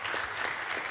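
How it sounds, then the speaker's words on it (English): An audience at an election candidate forum claps in a short stretch of continuous, moderately loud applause. "So can we give all the candidates a round of applause?"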